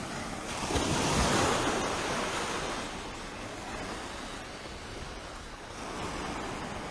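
Ocean surf washing onto a long beach at Gibbs Bay at high tide, a steady broadband roar that swells early then settles into a continuous wash, with some wind noise on the microphone.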